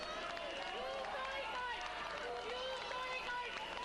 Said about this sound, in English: you can hear the crowd calling out Banzai